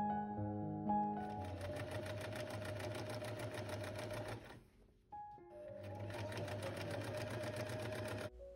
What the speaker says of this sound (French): cette couture-ci, on va aussi venir la plaquer avec une surpiqûre pour obtenir quelque chose de beaucoup plus propre